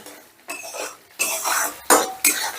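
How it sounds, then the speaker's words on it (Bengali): Masala spice paste for paneer being stirred and fried in a pan, with several bursts of scraping and sizzling utensil sounds separated by brief pauses, close and moderately loud. "এবারে মশলাটাকে বেশ ভালো করে কষে নেব"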